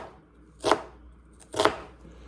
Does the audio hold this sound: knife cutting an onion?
yes